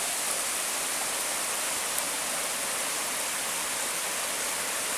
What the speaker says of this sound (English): you can hear the water at least